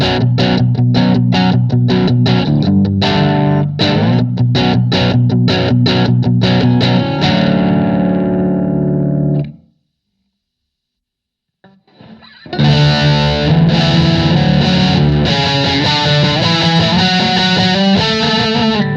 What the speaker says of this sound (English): That is a great crunch tone.